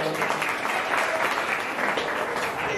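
A short burst of loud, steady group applause, dense clapping from many hands lasting under three seconds with no voices on top.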